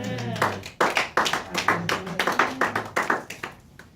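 A church congregation at a Friday night prayer vigil claps, a burst of sharp irregular handclaps that swells and then thins out over a few seconds, close and fairly loud.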